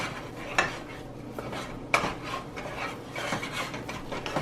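Churro batter is mixed vigorously in a bowl with a soft utensil, producing close, rhythmic scraping and rubbing with a few sharp knocks against the bowl and no talking.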